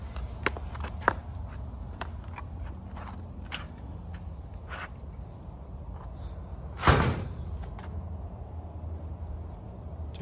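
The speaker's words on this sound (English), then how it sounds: "This time I can open the door." A house door is opened to let dogs out, with faint footsteps and small knocks leading up to one louder sliding thud and rattle partway through, close by in a quiet room.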